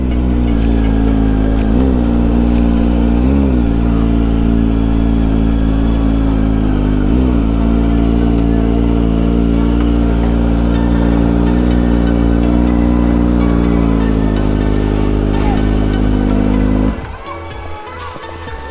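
A car engine revs loudly and steadily near the Mayon Skyline viewpoint in Tabaco, Albay, with a few throttle surges before it cuts off abruptly near the end, while voices talk faintly underneath.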